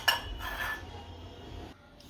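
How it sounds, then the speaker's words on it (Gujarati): A couple of sharp knocks ring out from a pestle pounding dried chili and cumin in a mortar, then a softer, lingering scrape fades away. "હવે મરચીની બટકી કરીને ખાંડી નાખશું અને જીરું ખાંડી નાખશું"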